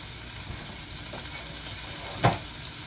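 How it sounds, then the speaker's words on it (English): A tomahawk steak sears in a hot pan, giving a steady, quiet sizzle with a few soft taps and one louder crackling flare late on, with no voices. "into that pan and let that sear for 4 minutes"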